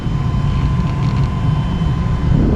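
AC blower fan running in a 1991 Chevy OBS truck after a blower motor replacement, a loud, steady whooshing airflow with a low rumble and a faint constant hum, close and unchanging, with no talking.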